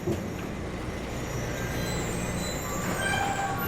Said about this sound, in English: The good old Buddy Boris railway attraction, of course.